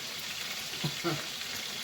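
Mozzarella chicken frying in a pan, giving a steady, quiet sizzle throughout with a couple of brief soft clinks or stirring sounds near the middle.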